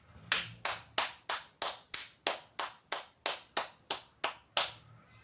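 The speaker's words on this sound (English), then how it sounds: "Round of applause." A single pair of hands claps about a dozen sharp, evenly spaced times, close and fairly quiet, each clap ringing briefly in a small room with no talking.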